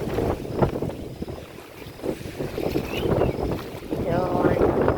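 Stormy wind roars steadily at Bokhira on the Porbandar coast during heavy rain and flooding, buffeting the microphone, with people speaking faintly underneath.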